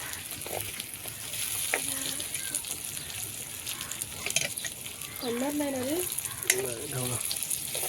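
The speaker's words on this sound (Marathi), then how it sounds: "जरा ढवत आहे जरा कांदा लालसर होऊ दे" Chopped onion frying in a pan on a wood-fired stove and being stirred, a steady close sizzle with scraping under voices talking over it.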